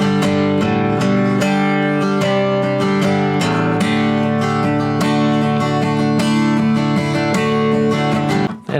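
Acoustic guitar strumming chords built on the melody notes of a song, a steady rhythmic beginner-level part played alone and up close, stopping abruptly at the end.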